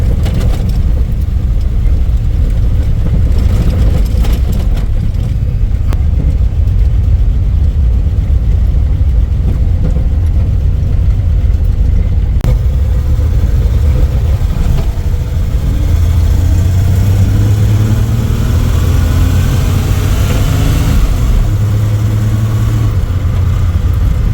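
A Dodge Aspen car engine drives in second gear, a loud, close, steady rumbling drone that holds throughout, with its pitch rising and falling slightly as the engine revs.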